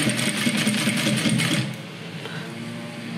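A sewing machine stitches a double box zippered pouch, running in a fast steady mechanical patter that eases to a quieter hum after a moment.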